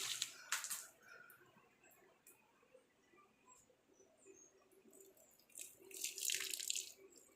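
A tap runs while someone washes their face and brushes their teeth at a home sink during a water shortage, giving a steady trickle with louder splashing bursts near the start and end and faint birds outside.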